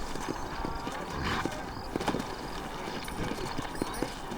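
Horse hooves clip-clop in the Western video game Red Dead Redemption, a steady walking rhythm of hoofbeats close by over a noisy game soundscape.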